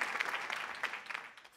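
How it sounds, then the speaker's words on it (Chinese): A small group claps briefly, a soft, fairly quiet patter of hands that thins out and fades toward the end. "此处应该有掌声"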